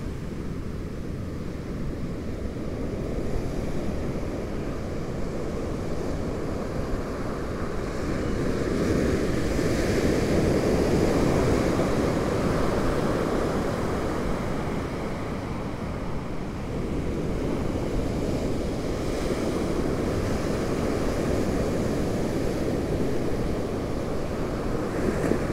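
Atlantic Ocean surf at Smith Point beach: a steady, broad roar of breaking waves that swells and eases in long surges, with some wind noise and no talking.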